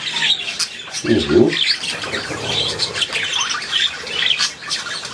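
Pet budgie squawking and chattering loudly up close, with repeated harsh calls and chirps, and a person murmuring briefly in the background.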